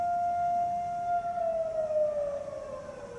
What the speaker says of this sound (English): at 10 a.m. the sirens will sound and the entire country of Israel will stop for 2 minutes